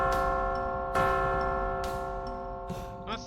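A bell is struck repeatedly in West of Loathing, four clear ringing strikes at roughly one-second intervals, each leaving a long sustained tone that layers over the others.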